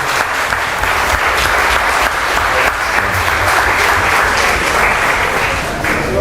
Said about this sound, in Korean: 박수로 하나님께 영광을.